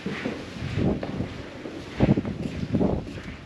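Gusty desert wind in the Erg Chebbi dunes near Merzouga, Morocco buffets the microphone in uneven bursts, rumbling low and swelling then easing, with no voices.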